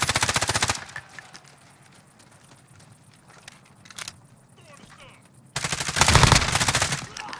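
Automatic gunfire in Call of Duty: Modern Warfare hammers out in rapid loud bursts at the start and end, with quieter footsteps and distant shots between and a voice speaking.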